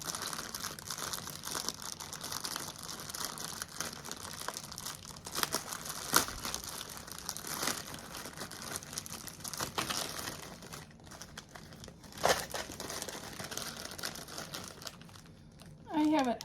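A plastic bag crinkles and rustles steadily as it is opened up close, with brief tearing bursts and a few louder crackles near the end.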